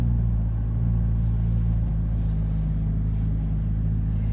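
A Chevrolet Corvette C8 Z06 engine rumbles steadily and close as the car drives, a continuous low drone with no clear rev spikes for the automatic downshifts.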